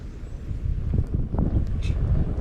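Wind buffets the microphone beside an outdoor twig campfire used for cooking rice, octopus and seafood soup, making a steady low rumble with gusty swells and faint rustling.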